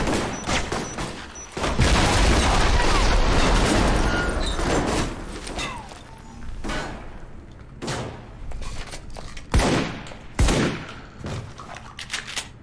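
Heavy gunfire in the video game Alpha Protocol pelts the player, with a dense, loud volley for several seconds, then scattered sharp shots and thuds trailing off.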